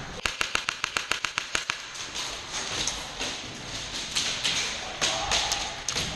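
Airsoft guns fire a rapid string of sharp, evenly spaced shots as suppressive fire, followed by scattered single shots later, all over constant outdoor rumble during a siege airsoft game in Toronto.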